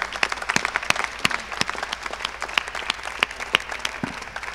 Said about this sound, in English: An applause for them